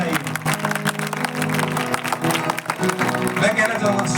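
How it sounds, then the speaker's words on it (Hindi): Loud audience applause from a crowd at a stage performance, clapping steadily throughout with music or voices blended underneath. "इस किरदार के लिए आप जोरदार तालियां बजाइए, पूरे मन से तालियां बजाइए"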